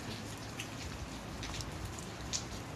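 Steady rain patters on a freshly waxed car, a dense, even hiss of drops with occasional sharper taps, close and moderately loud with no voices.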